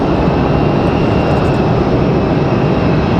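An airliner in Griswold the grizzly bear livery at Raleigh-Durham airport sounds as a constant, loud jet engine roar, dense and unbroken for a few seconds with no voices.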